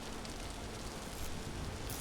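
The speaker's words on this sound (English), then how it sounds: "It's raining" Steady rain in the video game Vintage Story, a dense even hiss filling the whole stretch at constant level with no talk over it.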